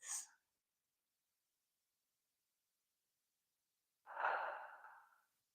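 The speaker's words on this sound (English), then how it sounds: "Inhale through the nose and exhale through the mouth. 3 deep breaths." Deep breathing, drawn in through the nose and let out through the mouth during yoga practice: a short sharp inhale, a long quiet pause, then a slow audible exhale, close and soft.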